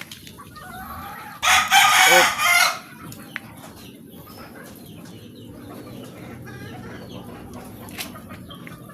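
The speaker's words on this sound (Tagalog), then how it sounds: "mga manok dito" A rooster crows loudly once for about a second, then soft hen clucks and faint outdoor noise continue; a voice gives a brief exclamation.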